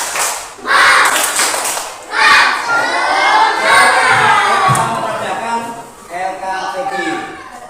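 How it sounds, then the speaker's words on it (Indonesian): Classroom of children chanting and clapping the tepuk semangat cheer in loud rhythmic bursts, voices shouting in unison between claps, close and energetic with short pauses between phrases. "Tepuk semangat"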